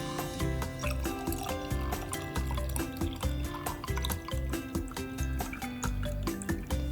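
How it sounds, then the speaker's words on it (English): Water is poured into a glass mason jar, a close, continuous splashing trickle with bright, irregular drips and gurgles that hold steady throughout, with no voices. "you just put just a little bit and then you fill the rest with your water"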